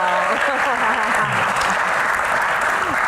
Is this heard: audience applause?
yes